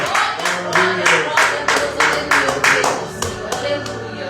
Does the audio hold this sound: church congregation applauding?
yes